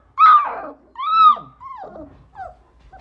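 Young coyote-dog hybrid puppies give a few close, high whimpers and yelps with a faint growl, in short separate bursts with quiet gaps between them.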